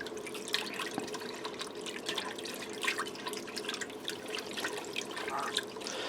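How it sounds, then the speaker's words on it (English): Sour cream whisked into a pork chop sauce inside a Ninja Foodi, a steady wet clicking and dripping patter of whisk against liquid, continuous and fairly quiet with no talking. "I'm going to whisk that in."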